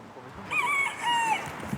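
Farmyard hens with a rooster crowing two drawn-out calls over soft background clucking, fairly close and clear, with no one speaking.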